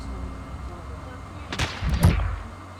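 A couple of close, sharp gunshot cracks from Call of Duty Warzone, about half a second apart and the second heavier, over a quiet low game background.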